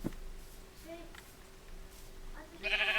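Minecraft sheep bleats, a short one early and a brighter one near the end, over a low steady background hum.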